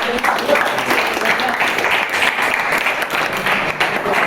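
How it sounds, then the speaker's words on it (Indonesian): A classroom of students in a university physics teaching session bursts into steady, dense applause that holds at full strength throughout, with some voices mixed in beneath the clapping. "Tepuk tangan untuk itu."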